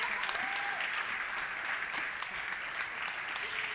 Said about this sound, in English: Ladies and gentlemen, I think that deserves a round of applause